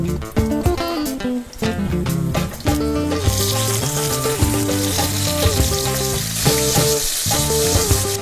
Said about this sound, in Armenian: Թավայի մեջ ավելացնում եմ ձիթայուղ,